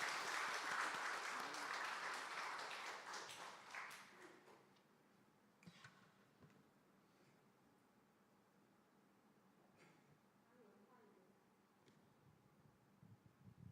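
A church congregation breaks into applause to welcome the next testimony speaker; a dense round of clapping rings out for about four seconds, then tapers away into near silence with a few scattered claps.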